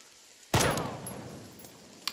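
A single sharp gunshot in the video game Jagged Alliance 3 cracks loudly and decays into a long reverberant tail, with a faint click near the end.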